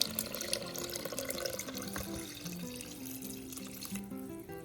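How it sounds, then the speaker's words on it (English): Water runs steadily from a tap into a pot for a pressure-cooker coconut chicken soup, a continuous splashing rush that fades slightly toward the end, with no talk. "we're gonna add 4 cups of water"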